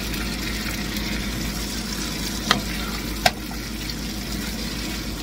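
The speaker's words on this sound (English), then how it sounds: "Give it a good stir without spilling it." Food being stirred in a pan, a continuous low frying hiss with two brief sharp utensil knocks against the pan, close and steady with no talk.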